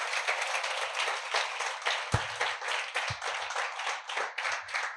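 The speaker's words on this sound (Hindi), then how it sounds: "अगर ये कलाम आप सुनकर बरकत पा रहे हैं तो जोरदार ताली बजाइए खुदा के जलाल के लिए।" Crowd clapping in a Hindi-language Christian worship service, a dense, steady burst of many hands applauding together for the full stretch, with a couple of low thumps partway through.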